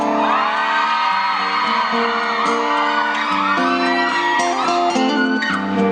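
Thai concert crowd at Central Rama 9 shouting and cheering loudly and continuously for a singer, a dense roar of many voices with sustained musical tones running underneath.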